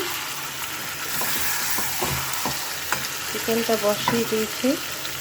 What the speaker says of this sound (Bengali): আর এদিকে আমি চিকেনটা বসিয়ে দিয়েছি